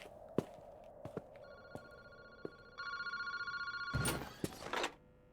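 A payphone rings in a phone booth at Kinshibori Park in the video game Paranormasight, a steady warbling electronic ring lasting a couple of seconds over a quiet ambient background, with a few soft knocks before it.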